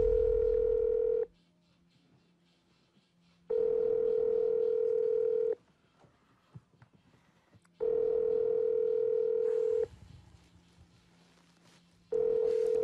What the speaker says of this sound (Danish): Altså, der er ikke nogen, der svarer, Jeppe.